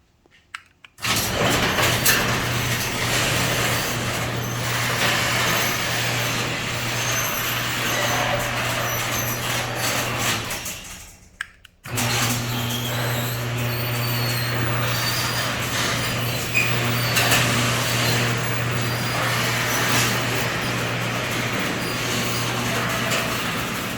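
A Chamberlain LiftMaster garage door opener, fitted with a new capacitor, runs with a steady motor hum and rattling drive noise, pausing briefly before starting again and continuing loud and close.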